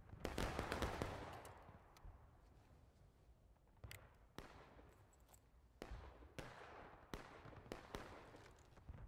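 Musket volley in War of Rights, a loud ragged crash of many rifles firing together at the start, followed by scattered single distant shots cracking over the battlefield.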